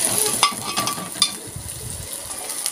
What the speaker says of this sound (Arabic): زي ما شايفين حضراتكم بنشوح البصل بتاعنا